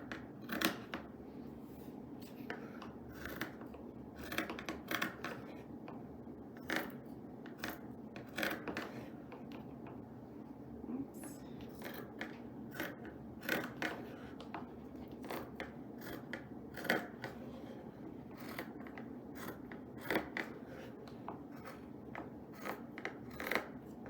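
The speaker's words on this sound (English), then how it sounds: "Be sure to cut through both layers of fabric." Scissors cutting through two layers of fabric into strips for a no-sew tote bag, a quiet, close series of crisp snips in an uneven rhythm that repeats steadily throughout, without speech.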